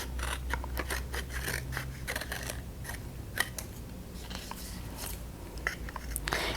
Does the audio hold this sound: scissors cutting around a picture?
yes